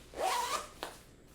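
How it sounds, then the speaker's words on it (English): The vent zipper on Alpinestars AMT-10 laminated motorcycle pants is pulled open in one quick rasping run, followed by a short sharp tug near the end, close and fairly quiet. "you zip both zippers down, and then the whole flap folds away into the knee area"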